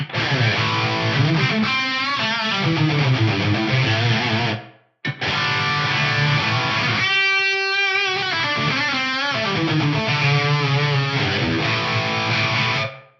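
Distorted electric guitar played through a Kurzweil Rumour reverb pedal, thick overdriven chords and riffs loud and close with reverb trails, a brief gap near the middle and a sustained held chord partway through.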